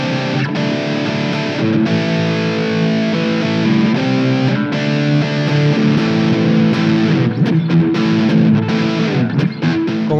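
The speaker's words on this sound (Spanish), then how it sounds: "Y por supuesto, los distintos canales de distorsión." A Blackstar ID:Core 10 V4 guitar amp on one of its distortion channels produces a loud, continuous crunchy guitar riff with chugging chords and short breaks, played alone without any voices.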